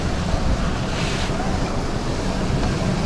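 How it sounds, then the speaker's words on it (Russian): Sea waves break and wash continuously off Kemer, Turkey, mixed with strong wind buffeting the microphone, a loud, steady roar of surf and gusts with no pauses. "вот эти волны, прям волны"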